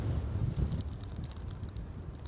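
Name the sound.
strong wind blowing across microphone at airport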